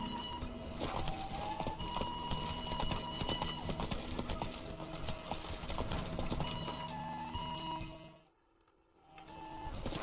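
Horse galloping in The Witcher III Wild Hunt, a rapid rhythmic clatter of hooves over a busy layered game soundscape that drops out briefly near the end before resuming.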